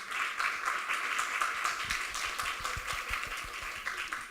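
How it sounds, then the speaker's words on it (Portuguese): An audience at a school cultural gathering in Aracaju, Brazil claps together after a reading: dense, sustained applause that stays fairly even and then begins to thin toward the end. "palmas para Tamires"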